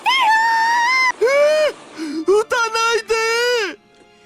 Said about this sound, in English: I hear Kurisu and Daru screaming as the gunfire continues.